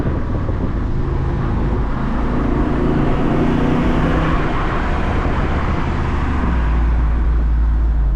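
A Jeep Wrangler Rubicon 392 V8 accelerating on the road under an overpass, a loud continuous engine roar with wind and road noise and shifting gear tones as it pulls through the gears.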